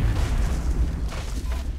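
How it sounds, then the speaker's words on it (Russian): A deep, rumbling boom of a grenade explosion in XCOM: Enemy Unknown, sustained for nearly two seconds, heavy and close, fading slightly at the end. "Давай гранату у него. Бросаю гранату!"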